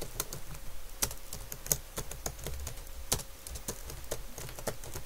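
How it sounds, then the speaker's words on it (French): Typing on a computer keyboard while writing in Microsoft Word, a quick, uneven run of close, crisp key clicks with a few louder taps in between. "Là, je tape quelque chose."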